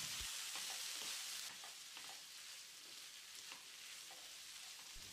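Vegetables and diced boiled potato are stirred and tossed in a hot frying pan for vegetable masala rice, giving a steady close sizzle broken by repeated scraping strokes, with no talking.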